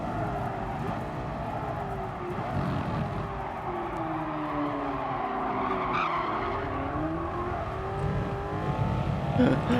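Car tyres skidding and squealing through a long drift in Gran Turismo Sport, with wavering tyre screech over a steady engine drone and revving near the end, close and continuous.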